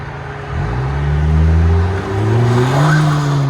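A turbocharged 2022 Honda Accord Sport Turbo with a muffler delete revs loudly up close, its raw exhaust note climbing, dipping briefly and rising again in pitch.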